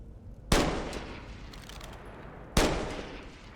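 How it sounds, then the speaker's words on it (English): Two sharp flintlock pistol shots in the video game Skyrim, about two seconds apart, each a loud crack followed by a lingering rumbling decay, with faint background noise between them. "it's a pistol. It is a flintlock pistol."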